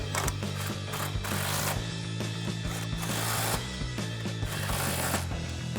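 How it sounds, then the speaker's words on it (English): An impact wrench tightens three 15 mm nuts on a 2015-2025 Ford Mustang C&L CX2 front strut, giving repeated loud rattling bursts close by, with brief pauses between them. "We'll grab our impact and 15 millimeter socket and tighten these 3 down."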